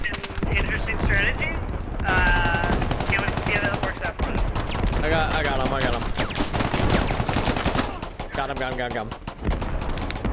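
Rapid gunfire bursts and single shots in the tactical shooter game Squad, loud and continuous under overlapping squad voice chat, with distant explosive thuds mixed in.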